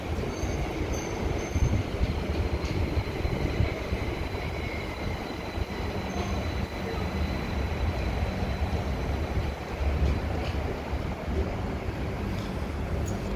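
An Amsterdam GVB metro train, a CAF S3/M4 unit, pulls into Zuid station with a loud, steady rumble throughout and a thin wheel squeal above it. No one speaks.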